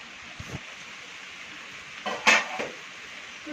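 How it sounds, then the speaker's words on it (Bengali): Steady rain falls outside a home, a continuous even hiss with a few brief clatters and knocks breaking through. "বৃষ্টি পড়ছে এখন"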